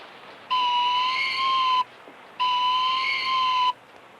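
A training whistle for a hawk blows two long, steady blasts of roughly a second and a half each, separated by a short pause, loud and close with no voices.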